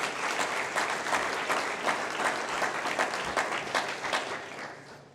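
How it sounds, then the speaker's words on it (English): Audience applause at a small business awards ceremony for chamber award winners, a dense, steady wash of many hands clapping that holds at even loudness throughout without pause. "A round of applause for all the Chamber Award winners."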